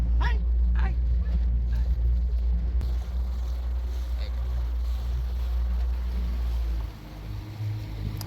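A 2024 Bass Tracker Pro 170 bass boat's outboard motor drones steadily at close range on a lake with a deep, constant rumble, water noise faintly underneath.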